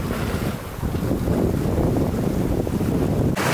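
A sailboat moving under its genoa alone, with steady wind rush and water wash along the hull forming a continuous, fairly loud bed of noise and no talk.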